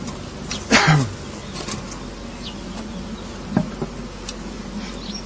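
Honey bees buzz in a steady low drone around an opened beehive as frames are handled, with a brief louder swell of a bee passing close near the start and faint clicks of hive parts later.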